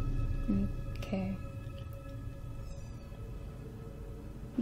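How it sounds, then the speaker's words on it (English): Kittens cry in the horror game Outlast with a few short, thin mewing calls near the start, heard over a low ambient drone. A person speaks over them. "The kittens are crying."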